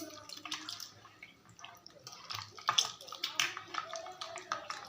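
Hands squeezing tamarind and mashing tomato in water for a drumstick-leaf kuzhambu, with close wet squelches and drips in an irregular rhythm.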